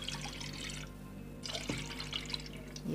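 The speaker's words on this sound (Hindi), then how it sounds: "एक कढ़ाई ले लिए, इसमें पानी शामिल करेंगे 4 गिलास।" Water is poured from a glass into a wide wok, about four glassfuls, for a fish head soup, a soft splashing pour that pauses briefly and then resumes in a quiet kitchen.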